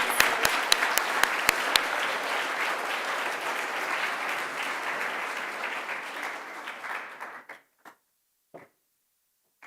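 Audience applauding award-winning students at a sixth grade awards ceremony, a steady wash of clapping with a few sharp claps at the start, fading out after about seven seconds into scattered final claps and quiet.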